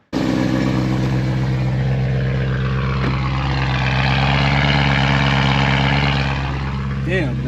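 A 2011 BMW M3 E90 idles close by, its engine holding a steady, deep, throbbing rumble with a constant exhaust drone for the whole stretch and a small wobble near the end.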